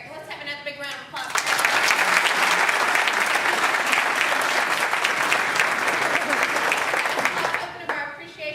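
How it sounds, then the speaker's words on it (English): Sustained audience applause honoring entrepreneur expert Erik Pages at a Rowan County Chamber of Commerce event, a dense steady burst of many hands clapping for about six seconds before tapering off. "let's have another big round of applause"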